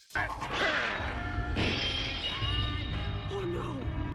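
A thrown tomahawk caught in the teeth and shattered in a 1998 Tekken anime, a sharp crash at the start followed by breaking debris and dramatic effects layered over a loud, continuous action soundtrack.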